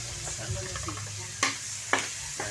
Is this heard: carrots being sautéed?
yes